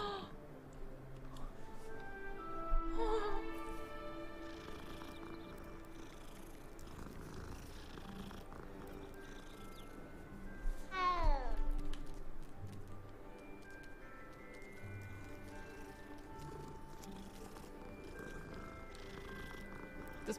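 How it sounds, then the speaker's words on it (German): A cat purrs steadily and close, with a couple of brief meow-like calls rising over the soft continuous rumble. "Das ist meine Katze"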